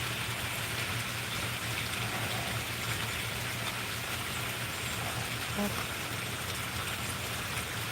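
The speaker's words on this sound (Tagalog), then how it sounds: "Ayan, umuulan po." Steady rainfall hisses as a dense, constant wash of drops, fairly loud and unbroken from start to finish, with a faint low hum underneath.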